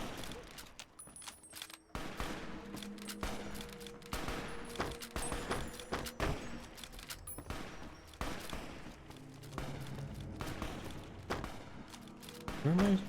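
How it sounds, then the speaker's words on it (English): Rapid bursts of gunfire from Fallout: New Vegas rattle on throughout, with volleys and single shots at varying distances, while someone talks over the shooting. "Hey, stop shooting. Stop shooting."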